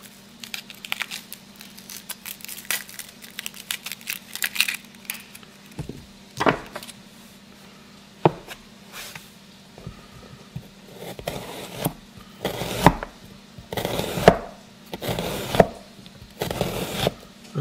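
Onions being chopped on a cutting board, irregular knife thuds and crunchy cuts that speed up into clusters of sharp strikes over a steady background hum, close and fairly loud.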